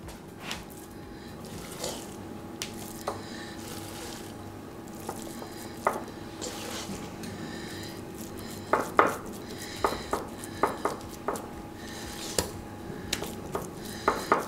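Pork liver mixture spooned and pressed into a terrine dish, heard as a steady run of soft scraping and clinking of utensil against dish, with sharper taps and knocks growing more frequent toward the end.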